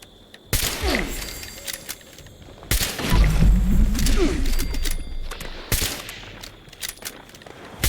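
Gunfire in the video game Fallout 76, with sharp shots and short bursts cracking out at irregular intervals, mixed with mechanical clanks and a heavy low rumble in the middle.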